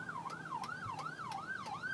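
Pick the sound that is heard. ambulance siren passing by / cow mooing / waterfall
ambulance siren passing by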